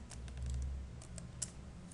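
Quiet keystrokes on a computer keyboard, a short burst of light clicks followed by a few spaced taps, close and faint over a low hum.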